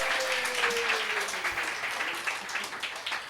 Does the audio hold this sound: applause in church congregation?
yes